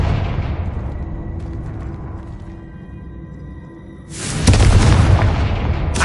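A Confringo blast spell bursts in Hogwarts Legacy: a loud booming explosion rises sharply after a quieter stretch of game ambience and rumbles on, broad and heavy, to the end.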